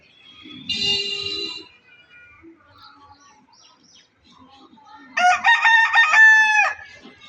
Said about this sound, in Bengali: এই মোরগের ডাকটা শুনতে পারেন না